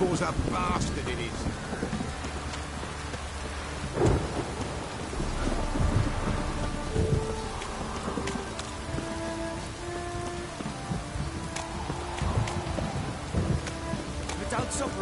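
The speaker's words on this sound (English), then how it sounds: "If it don't stop raining, my arse will rot off." Continuous rain in The Witcher 3 patters and splashes on surfaces, with faint voices and low rumbling mixed in beneath the steady shower.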